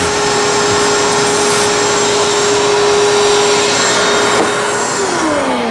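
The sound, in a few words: vacuum cleaner sucking up metal chips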